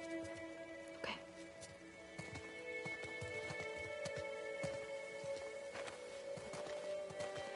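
Horse hooves clop steadily in The Last of Us Part II, a rhythmic, moderately close walking gait with a brief whinny-like sound near the start, over game ambience.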